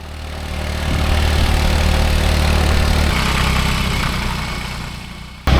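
A motorbike engine with failing brakes climbs a hill on Satonda island, droning steadily and loudly, swelling then slowly easing off before a sudden louder burst at the end.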